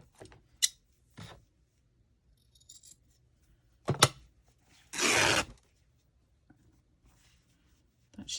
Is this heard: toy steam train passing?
no